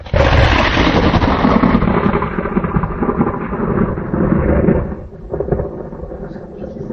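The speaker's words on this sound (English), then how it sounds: "Sunny, cloudless sky, yet we hear thunder." Loud, rolling thunder peal from a clear, cloudless sky, booming continuously for several seconds before fading into a lower rumble with no rain.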